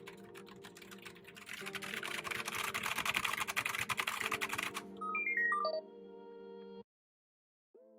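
Someone types on a Logitech G915X wireless keyboard, a quick run of close, crisp key clicks over a low electronic hum, followed by a short rising series of beeps and then silence.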